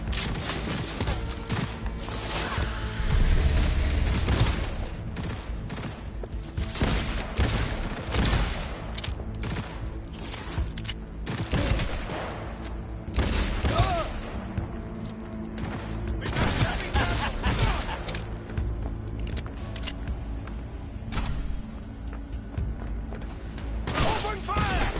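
Sustained gunfire in Cyberpunk 2077 on PS5 rattles through dense bursts and booming shots, loud and continuous, with voices calling out over the battle.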